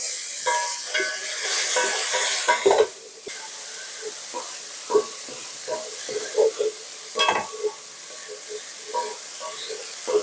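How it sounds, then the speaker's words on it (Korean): Burdock root stir-fried in a pan after being drained, with a steady sizzle and hiss of steam under the clatter and scrape of stirring. Someone talks over the cooking. "물기 살짝 빼주고 난 뒤에 얘를 볶아줄게요"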